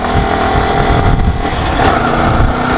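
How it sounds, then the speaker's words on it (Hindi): A Yamaha YZF R15 V3 155cc motorcycle engine pulls steadily at about 4000 rpm in second gear on a steep hill, a loud, continuous drone that holds nearly level throughout. "ये 4000 आरपीएम में मैं गियर नंबर टू पे हूँ"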